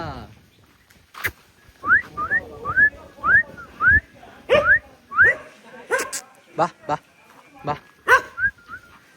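Dogs bark repeatedly nearby while someone whistles in short rising notes, with occasional talking mixed in.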